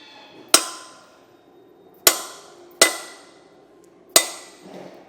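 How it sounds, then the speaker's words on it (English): Four sharp metallic taps of a hammer striking a punch during a Kodiak disc brake installation on a 2023 Grand Design Solitude fifth wheel, spaced unevenly with ringing decays, close and loud with no talking. "Get a punch and a hammer."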